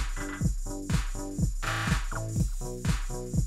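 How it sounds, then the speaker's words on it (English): Drums and bass from a house-music remix playing together in a steady four-on-the-floor groove, with punchy kicks and bass notes repeating at a regular pulse and no voices. "So the drums and bass together sound like this."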